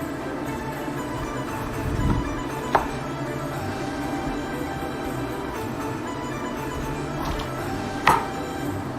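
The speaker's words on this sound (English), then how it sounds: "And then chop them into half. And then cut each half into another half." Knife cutting bitter melon into halves and quarters for a Chinese home-style bitter melon egg cake, giving a couple of distinct sharp chops on a board over steady low kitchen background, with no talking.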